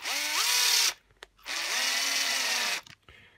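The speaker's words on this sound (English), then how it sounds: "I'm just driving the screws in, one by one." A battery screwdriver drives screws into a bike tyre to make studded tyres, two close whirring bursts with rising pitch as the motor spins up, separated by a short pause.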